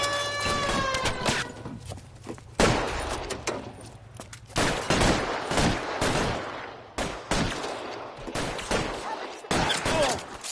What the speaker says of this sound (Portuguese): Do jeito que eu gosto, tiroteio.